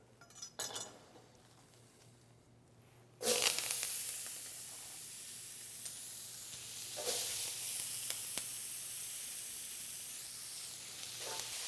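Vegetables shoveled into a hot pan of rendered brisket fat and brown beef bits sizzle loudly and steadily, the hiss rising after a clatter at about three seconds, with a few utensil clinks and scrapes.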